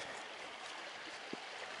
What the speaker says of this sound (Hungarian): És végig a patak mellett vizesés áll.